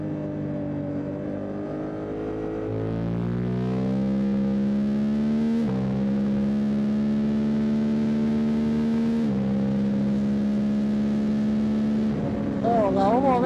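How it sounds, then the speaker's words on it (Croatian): A 2026 Suzuki GSX-8TT motorcycle is ridden on the road, its engine giving a loud buzzing drone that climbs in pitch through the gears and then holds a steady cruising note, with a short sharper burst at the very end. "Kako je ovo opasan motor,"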